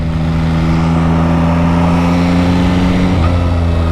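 A 2025 Yamaha MT-09 SP motorcycle idles with a steady, loud, close engine drone, and the pitch shifts slightly near the end as the throttle is blipped.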